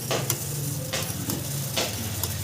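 Masala chai spices (cinnamon, cardamom and nutmeg powder) being stirred in a pan, a steady close scraping and swishing with soft sizzling underneath, brief louder strokes recurring every half second or so.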